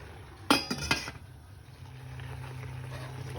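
A metal lid clinks down onto a pot of spicy beef stew with a few sharp, close clanks, then gives way to a quiet hum from the cooking setup.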